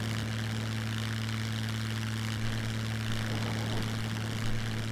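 A propeller aircraft engine drones inside the cockpit in the survival game SCUM, a loud, steady humming roar with an unchanging tone that fills the whole stretch, with no voices over it.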